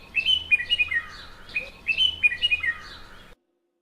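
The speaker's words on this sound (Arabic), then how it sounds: "إنه صوت البلبل. هذا هو البلبل وهذا هو صوته." A bulbul sings a bright, warbling phrase of quick chirping notes, then repeats the same phrase after a short pause. It is clear and fairly close over a quiet background.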